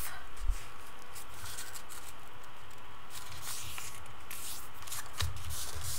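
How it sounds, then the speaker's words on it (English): A paper circle folded in half for a paper poinsettia, giving close, steady crinkling and rustling with a soft crease pressed down, over faint background hiss. "So first step, of course, would be to fold it into half."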